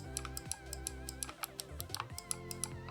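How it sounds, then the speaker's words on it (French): Triggers on a Gamesir X2 Android mobile game controller pressed again and again, giving quick, mouse-like plastic clicks in an uneven rhythm, close and clear with no voices. "On va retrouver aussi des gâchettes qui font un clic un peu bizarre"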